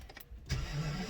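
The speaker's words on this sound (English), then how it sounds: "So let me start up the car." Car engine cranking over and catching, a short starter whirr followed by a settling idle, close and fairly quiet, no talking.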